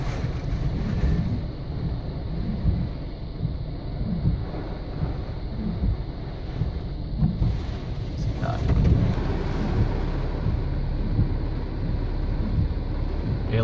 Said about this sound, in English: Very big gust.